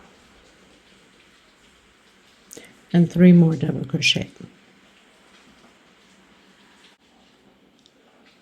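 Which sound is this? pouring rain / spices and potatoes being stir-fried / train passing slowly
pouring rain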